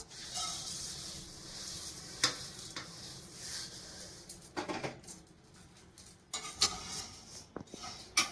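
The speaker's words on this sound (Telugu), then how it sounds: "మళ్ళీ ఇప్పుడు అటుకులు కూడా అట్లానే వేయించుకుందాం." Flattened rice (atukulu) fries in a pan with a soft, steady sizzle. A spoon scrapes and stirs it, and sharp metallic clinks come at irregular intervals, close and fairly quiet.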